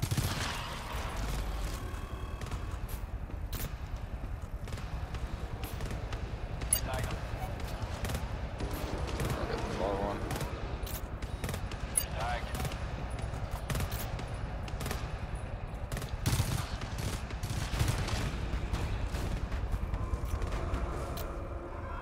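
Shotgun blasts in the co-op shooter GTFO, a string of sharp booming shots at irregular intervals amid steady background game noise, with people talking now and then.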